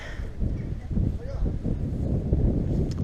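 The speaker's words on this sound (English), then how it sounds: "It's quite windy, so hopefully you can hear this still" Steady low wind rumble buffeting the microphone throughout, loud and continuous with gusts, outdoors at Pevensey Castle, England.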